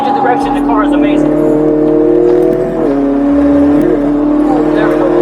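A Mini GP race car runs hard around Lime Rock race track, its engine loud and near, revs sweeping down and up across gear shifts in a continuous onboard roar.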